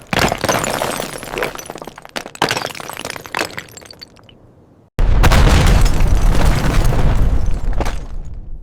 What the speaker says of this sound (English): With one final blast, the wall gave way.